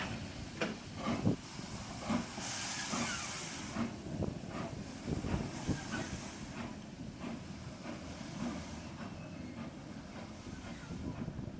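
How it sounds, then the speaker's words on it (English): A Standard 4 steam locomotive rolls slowly over railway points at Oxenhope station with irregular clanks and thuds, while bursts of steam hiss in the background. "It's now crossing the point so it can return to pull the train back down the valley"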